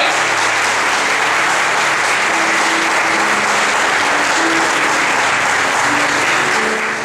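A church congregation applauds to welcome the preacher, a dense, steady wash of clapping that fills the room loudly and evenly throughout.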